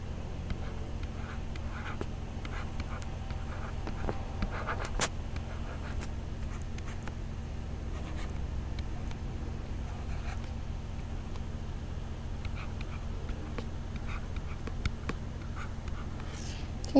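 A pen scratches steadily across paper as algebraic factors are written out by hand, faint repeated strokes over a low steady hum, with no talk.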